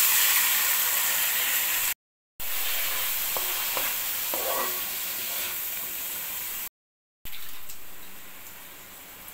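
Onions and green chillies sizzle steadily in hot oil with fenugreek and mustard seeds for Nellore fish curry, a dense close frying hiss with a few faint stirring scrapes, broken by two brief silent gaps.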